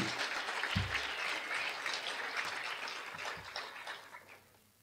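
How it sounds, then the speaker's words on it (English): An audience claps steadily, a dense patter of many hands fading out near the end, with a few low thumps underneath. "Please give Bret a round of applause."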